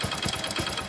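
Motorcycle engine running with a worn internal timing chain, giving a steady rapid mechanical clatter and ticking in a regular pulsing rhythm, close and fairly loud with no voices.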